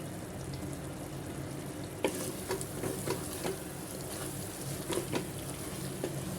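Chicken varuval with coriander sizzles softly in a frying pan while a spoon scrapes and knocks against the metal in irregular strokes close by.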